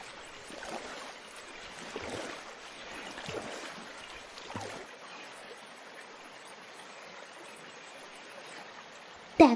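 A small boat glides on a pond among water lilies, a faint continuous wash of lapping water with soft swishes rising and falling, ending in a brief clunk.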